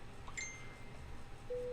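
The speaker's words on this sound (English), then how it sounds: "And that was my phone going ding." A phone notification ding, faint and brief: a short electronic chime early on, then a steady tone near the end, over quiet background hum.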